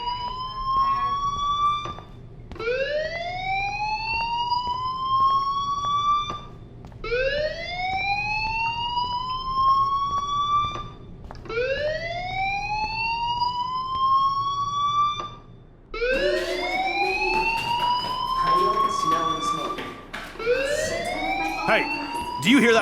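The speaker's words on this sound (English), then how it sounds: "Hey, do you hear that fire alarm?" A fire alarm in the video game Life Is Strange wails in repeated rising sweeps, about five slow cycles, loud and continuous, with a harsher, denser burst of siren near the end.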